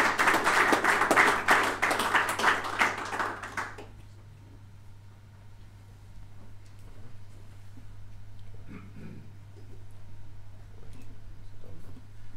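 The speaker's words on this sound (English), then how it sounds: "I'd like to ask my fellow attendees to maybe put their hands together for a round of applause." Attendees at a business presentation on developing a product give a round of applause, a dense burst of many hands clapping for about four seconds before it stops and leaves a quiet room.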